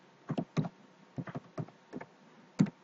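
Keys tapped on a computer keyboard while a search word is typed, a short run of crisp clicks in small bursts with pauses between, close by and fairly quiet, with no talking.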